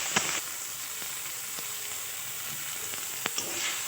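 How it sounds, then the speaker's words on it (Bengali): Tomatoes, peas and green chillies sautéing in a pan, giving a close, steady sizzle and hiss with a few sharp spatters and utensil taps scattered through, no talking. "এবার আমি টমেটো আর মটরশুঁটি আর পরিমাণ মতো কাঁচা লঙ্কা দিয়ে কষিয়ে নিচ্ছি।"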